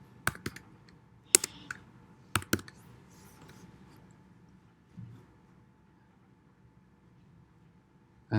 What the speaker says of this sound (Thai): แล้วก็พิมพ์ header นะครับ แล้วก็พิมพ์ไฟล์ JSON นะครับ